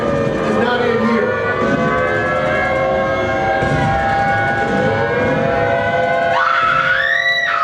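Air raid siren sounding during a re-enactment of the 1942 Los Angeles blackout, a wailing tone rising and falling over a loud, busy background of crowd noise and rumble, with a sharp upward sweep near the end.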